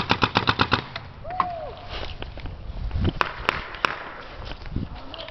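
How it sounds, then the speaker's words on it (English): Paintball markers fire during an outdoor paintball game, a rapid burst of pops opening, then scattered single shots and sharp impacts amid movement and distant shouts. "Got paint busting all around Nolan."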